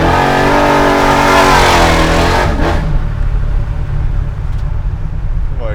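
An 850 hp 632 cubic inch (10 liter) V8 Chevelle revs hard and accelerates, a loud, roaring engine note that sweeps upward for about three seconds, then settles into a steady, throaty rumble with no talking.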